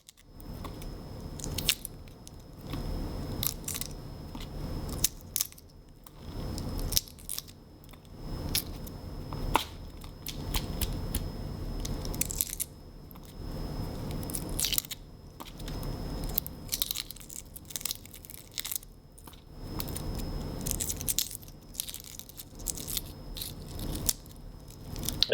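The shell of a soft-boiled egg is peeled away by hand, with faint, close crackles and crunches in irregular bursts and short quiet pauses between them, and no voices.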